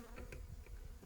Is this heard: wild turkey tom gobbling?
no